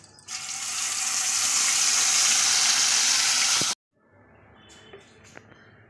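Spice paste goes into hot oil already tempered with nigella seeds and erupts into a loud, steady sizzle that lasts about three and a half seconds, then stops abruptly, leaving faint kitchen clinks behind.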